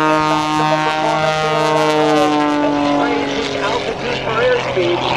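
An aerobatic propeller airplane at an airshow drones loudly and steadily, its engine pitch sliding as it climbs and rolls, while an announcer talks over the sound.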